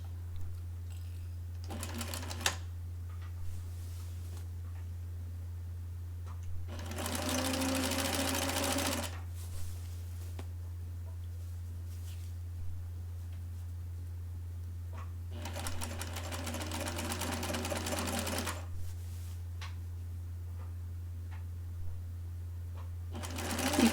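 A sewing machine stitches the armhole of a princess-seam blouse in two sustained runs of steady whirring, each several seconds long, with brief handling clicks in between against a constant low hum.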